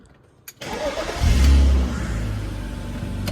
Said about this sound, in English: So engine wise, I'll fire it up.